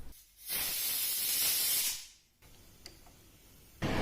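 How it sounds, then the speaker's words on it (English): A pressure cooker releases steam in a loud, steady hiss that swells for about a second and a half, fades away, then bursts back at the end, close by with no talk. "While the pressure gets released from the cooker"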